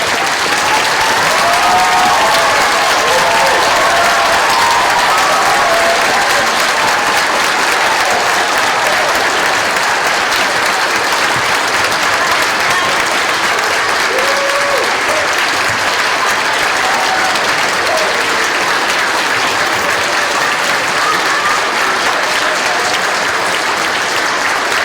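Audience at the 12th annual Page Hilltop Veterans Day ceremony applauding the veterans, sustained loud clapping from a large crowd that continues evenly for the full duration with a few faint voices underneath.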